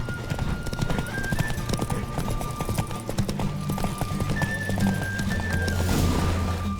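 Rapid hoofbeats of a galloping horse pound steadily, with a whinny and clinking tack, amid game-like music and effects from The Witcher 3.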